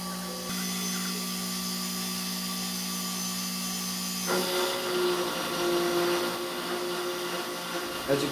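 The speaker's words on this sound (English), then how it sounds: "Now I'll turn my spindle on and I'll cut the part." A CNC machine spindle whines steadily at first, then shifts into a rougher, louder cutting whir as the tool bites into a part. A voice can be heard speaking over the machine.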